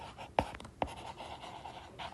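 A pen scratches across paper while math working is written out, with two sharp strokes followed by softer, quieter scribbling nearby.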